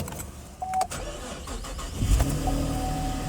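A 2013 Chevy Camaro with a manual gearbox cranks and catches at close range, a short starter whir giving way to a low, rising engine rumble that settles into a steady idle.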